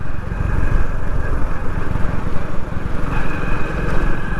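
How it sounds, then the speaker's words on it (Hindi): A motorcycle engine drones steadily and close by while the bike rides along a jungle safari trail through tall brush in India, with a continuous low rumble and no speech. "बाइक से सफारी चलती है अपनी।"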